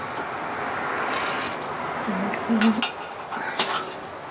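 Onion pieces char in a pan for Vietnamese chicken pho under a low, constant sizzle, broken by a few sharp metallic clinks and scrapes as they are turned over, with a brief voice murmuring in between.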